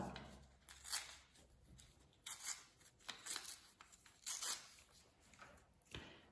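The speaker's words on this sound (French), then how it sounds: "Vous allez déchirer les bouts." Paper tears in several brief rasping bursts as its ends are ripped by hand, faint and close, with quiet pauses between tears.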